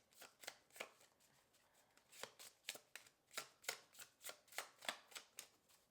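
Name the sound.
shuffling a deck of tarot cards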